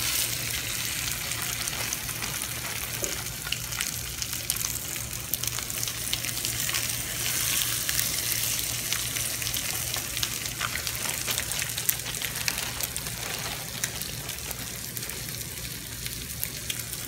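Striper fish fillets coated in crushed chips frying in a pan, a steady, even sizzle that holds for the whole stretch, close and fairly loud, with no one talking.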